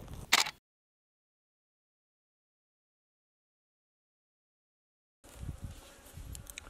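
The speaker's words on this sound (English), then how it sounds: "There are a lot of bees." Bees buzz in a desert slot canyon, a brief close burst at the start, then silence, then a steadier faint insect drone with outdoor rustle.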